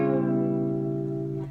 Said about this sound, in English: Bend them down and then play them while you release them back up.